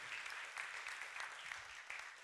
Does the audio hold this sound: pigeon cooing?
no